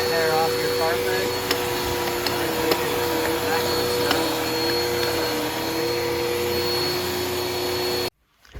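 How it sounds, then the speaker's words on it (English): A pet hair vacuum cleaner runs with its rotating brush spinning, a loud, steady motor whine and drone with a few light clicks, then it cuts off abruptly near the end. "when you turn it on, this brush is rotating, so that's for cleaning the pet hair off your carpet"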